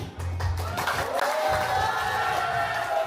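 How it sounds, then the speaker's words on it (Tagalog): Wedding guests cheer and applaud for Team Groom, a crowd roar of shouts and clapping that swells and holds loudly throughout, with voices calling out over it. "I wanna hear yung pinakamalakas na palakpakan at sigawan para sa Team Groom."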